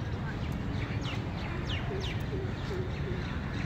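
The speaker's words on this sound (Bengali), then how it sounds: "পাখি ডাকছে।" Birds call from the trees beside a pond in the grounds of the Victoria Memorial, Kolkata, giving a series of short, thin chirps over a steady, noisy outdoor background.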